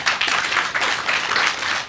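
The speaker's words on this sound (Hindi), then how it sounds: "इनके लिए जरा जोर से तालियां बजाओ" Children at a kids' summer camp clapping hard for a fellow camper, a loud, dense, continuous round of applause from a group in a room that runs for two seconds without talk.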